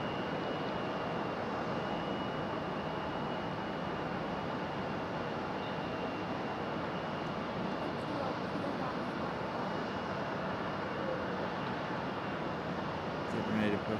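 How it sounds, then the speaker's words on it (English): A FedEx Boeing 767 arriving from Memphis, Tennessee roars steadily as a broad, continuous jet rumble at Raleigh Durham International Airport, holding even and fairly loud for the whole stretch with no clear break. "FedEx 767 coming in from Memphis"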